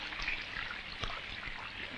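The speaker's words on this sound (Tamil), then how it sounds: "வீடு ஒழுகுது" Rain water dripping and trickling into a leaky house during a downpour, a steady close splashing stream with scattered heavier drops.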